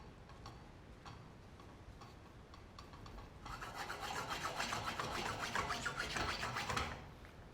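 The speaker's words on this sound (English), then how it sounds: "So move your spatula and you start off trying to make it like a scrambled egg." A spatula scrapes and stirs eggs in a pan for an omelette, starting with light sparse ticks and then breaking into a busy, rhythmic scraping rasp for several seconds before easing off, close and quiet, with no voices.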